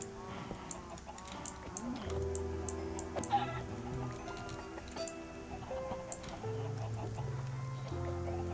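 Chickens cluck in the Minecraft video game, with short scattered clucks mixed into tonal background music and game sounds at moderate volume.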